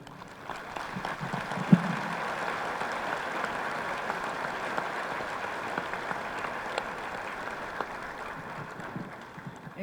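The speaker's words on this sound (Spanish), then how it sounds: "yo les pediría que le diéramos un aplauso a todas las y los policías que están" A hall audience applauds the police officers present at a forum on technology and peacebuilding. The clapping is steady and sustained for several seconds, with one sharper clap near the start and no talking over it.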